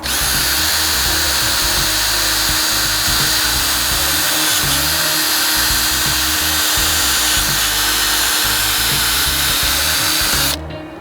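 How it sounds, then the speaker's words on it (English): A power drill bores holes in PVC pipe for a greenhouse arch, running loud and steady for about ten seconds with a constant whine, then stopping abruptly. "Now the final drill holes we're going to make are going to be with this piece of PVC that's going over the arch."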